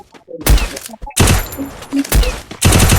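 Sniper rifle shots in a battle royale video game, several loud, sharp cracks spaced apart over a short stretch, with a voice talking briefly between them.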